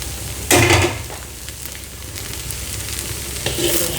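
Ham, bacon and shrimp fried rice stir-fried with coriander and spring onion, a loud burst of sizzling as the greens hit the hot pan, then a softer ongoing fry with light scraping.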